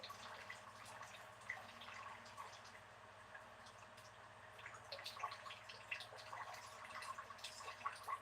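Rainwater drips and trickles off a roof, a faint, irregular patter of drops over a low steady background hum, distant and soft.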